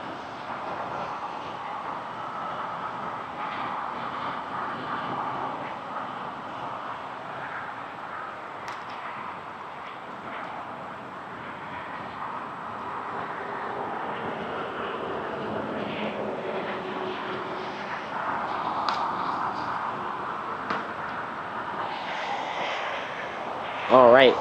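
A Porter Airlines plane takes off from runway 23 at Toronto Pearson, its engine roar a steady broad rumble heard from a distance, mostly alone and rising slightly toward the end.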